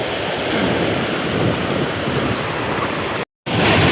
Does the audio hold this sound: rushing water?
yes